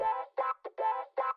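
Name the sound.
wah guitar part from a song outro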